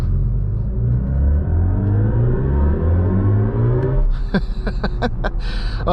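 A BMW i5 M60 electric car's synthetic engine-like sport-mode hum rises steadily in pitch as the car accelerates, followed by a burst of bright tonal chimes and whirring near the end.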